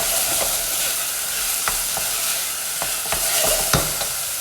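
Chopped onion frying in a pan, a steady soft sizzle with scattered clicks and taps of a utensil stirring, close and alone with no voices.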